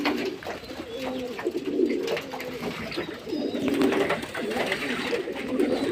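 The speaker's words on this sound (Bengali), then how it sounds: "বন্ধুরা এই পায়রা সব চান করছে" Several pigeons bathing together coo in overlapping, low throaty phrases, close by and repeated throughout, with faint rustling beneath.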